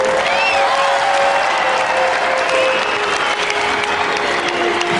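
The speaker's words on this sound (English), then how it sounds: "Give George another round of applause." Steady applause from a live afternoon audience for a performer named George, dense and continuous clapping at close range for the full stretch, with a faint sustained musical tone lingering underneath.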